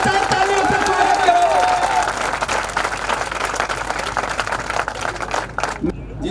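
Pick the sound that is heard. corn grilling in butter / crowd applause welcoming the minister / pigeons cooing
crowd applause welcoming the minister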